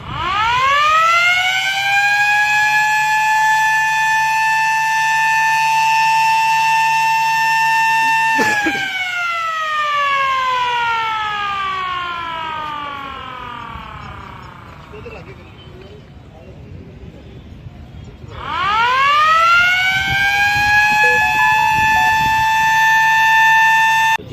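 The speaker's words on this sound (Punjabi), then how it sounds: "ਆਪਣਾ ਸਾਇਰਨ ਹੈ ਇੰਸਟਾਲ ਕੀਤਾ ਪ੍ਰਸ਼ਾਸਨ ਵਾਲਿਆਂ ਨੇ" Civil defence air raid siren at a hospital in Tarn Taran during a mock drill, loud and close, wailing steadily, winding down for several seconds, then rising again to full pitch; people talk faintly beneath it.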